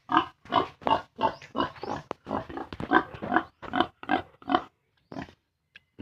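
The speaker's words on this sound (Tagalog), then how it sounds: "Ito yung ating inahing baboy." A sow on a small backyard farm gives a run of short, close grunts in a steady rhythm, about a dozen low snorts in quick succession that trail off into a few fainter ones at the end.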